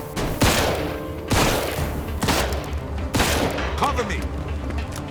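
Gunfire in a Mafia II shootout, with heavy shots cracking in a loose rhythm about once a second amid reverberant rumble and brief shouted voices.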